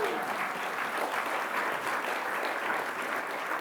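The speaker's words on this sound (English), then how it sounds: "you can applaud now." Audience applause at a civic year-in-review event at Vancouver City Hall, steady dense clapping from a crowd that holds at an even level throughout, with no voices over it.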